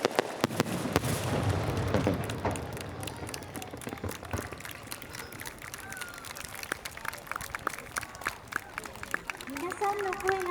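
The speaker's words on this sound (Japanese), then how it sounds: "アンコール花火で答えてくれました。" Encore fireworks at the Lake Suwa summer night festival on a lakeside evening: a steady run of sharp crackling bursts and pops, fairly loud, over a low rumble and background crowd noise.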